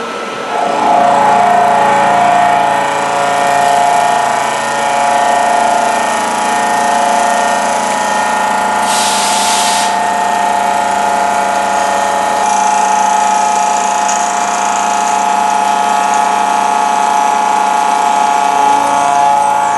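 A milling machine fly cuts a metal Jeep part with a steady loud mechanical whine and tonal hum. The drone holds constant for the whole stretch, broken by a brief hissy burst midway.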